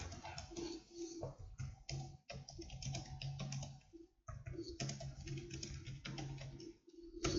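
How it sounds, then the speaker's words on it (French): Rapid, uneven clatter of keys typed on a computer keyboard, close and steady with short pauses between bursts, no voices. "Je tabule et je tape mon texte."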